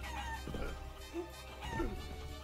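Chickens in the chicken cave of the video game Guacamelee!, giving a few short clucks over game background noise, moderately faint with no voices.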